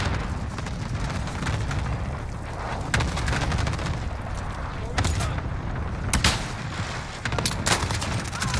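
Repeated explosions and gunfire from a cluster strike in Call of Duty: Warzone, with dense rumbling booms and sharp cracks going on throughout, loud and close, a voice talking faintly underneath.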